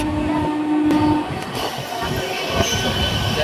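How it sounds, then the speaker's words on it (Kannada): A moving passenger train heading to Solapur rumbles steadily on the rails from inside the carriage, with a thin wheel squeal early on and a few faint knocks over continuous loud noise. "ನೋಡ್ರಿ ಟ್ರೈನ್ ರೀ ಹಂಗ ನೋಡಿ ಹೊರಗೆ ಎಷ್ಟು ಸ್ಪೀಡ್ ಹೊಂಟ್ರಿ ಟ್ರೈನ್ ರೀ"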